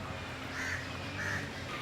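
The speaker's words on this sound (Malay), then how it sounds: "Ui, besar gila burung." Large birds calling at a zoo, two loud harsh caws about half a second apart against steady background noise, with no talking.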